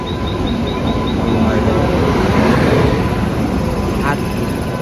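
The Konkan Kanya Express (20111) pulls into a crowded station platform during the summer rush, a loud, steady rumble lasting several seconds with faint horn-like tones above it.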